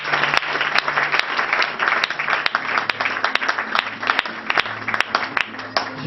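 Congregation applauding and cheering for God at a church gathering, steady dense clapping with crowd voices throughout, loud and close.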